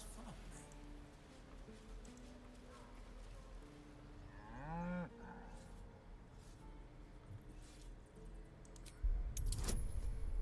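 A cow moos in the Baldur's Gate 3 video game, one rising, wavering call in the middle, set against quiet ambient game sound, a jangling metallic rattle and a burst of louder noise near the end.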